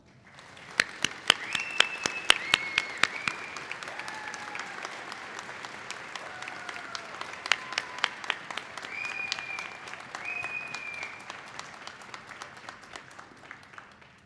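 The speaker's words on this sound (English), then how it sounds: "Please help me in welcoming with a warm applause, Cheryl Murillo." Warm applause from the audience at a fall college commencement ceremony, a steady wash of many hands clapping for about fourteen seconds with a few sharp nearby claps and faint tonal sounds drifting over it.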